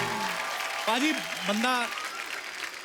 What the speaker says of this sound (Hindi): एक बार गुरु रंधावा के लिए जोरदार तालियां।